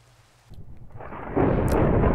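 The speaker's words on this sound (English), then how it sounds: "This might not be the best place to stand during a thunderstorm." Minecraft thunderstorm thunder swells from near quiet into a loud, deep rumbling roll that holds steady to the end, with no talking.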